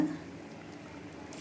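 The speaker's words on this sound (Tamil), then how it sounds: "புளி தண்ணி ஊற்றுறேங்க" Tamarind water being poured into a simmering dry fish curry (karuvadu kuzhambu) with cooked field beans, giving a brief, soft liquid pour and splash heard alone at low level.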